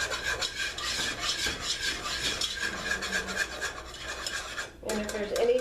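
Strawberry jello pie filling is whisked smooth in a bowl, a steady rapid scraping and rubbing that runs on continuously, close and fairly loud, with a brief pause near the end before it resumes.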